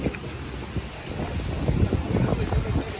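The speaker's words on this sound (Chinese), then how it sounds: "这地方好凉啊，风很大很大，好舒服。" Strong wind blows outdoors, producing a steady rumbling roar and buffeting on the microphone that grows slightly heavier toward the end.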